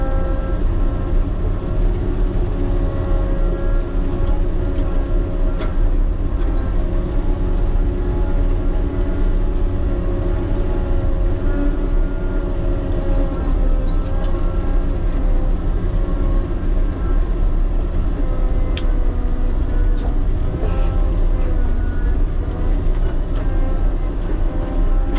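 A truck engine drones steadily at a road-building site where a Caterpillar motor grader is opening a road, a continuous low, heavy rumble with no pauses and no talking.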